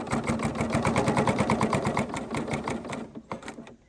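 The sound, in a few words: serger sewing quilt up to pin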